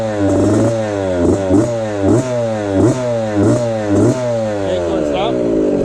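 A Yamaha YZ65 dirt bike fitted with an FMF Turbinecore 2 spark arrestor exhaust revs up repeatedly, about a dozen quick rhythmic blips over a steady close engine drone, with a voice faintly in the background.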